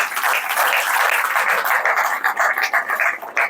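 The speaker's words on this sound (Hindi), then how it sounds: "ताली बजाओ इनकी।" Audience members at a Brahma Kumaris meditation gathering clap together, a continuous crowd applause that grows more uneven and patchy toward the end.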